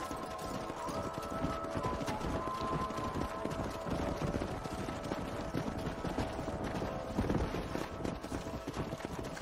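In the Red Dead Redemption video game, a group of horses trots along with a steady, overlapping clip-clop of hooves. The hoofbeats are moderate to faint, with occasional game voices and a soft background score underneath.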